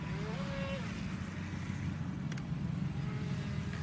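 An FT009 remote-control speedboat runs on the water with a steady, buzzing electric-motor whine over a continuous wash of water, close and unbroken throughout.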